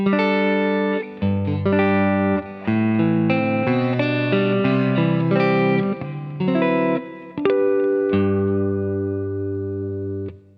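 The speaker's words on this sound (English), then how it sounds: "my neck pickup, just clean, a little bit of reverb, a little bit of delay" Clean electric guitar through the neck pickup with a touch of reverb and delay, played into a tube amp and miked cabinet: close, loud chords and melodic lines in sustained phrases, trailing echoes between strums, no voices.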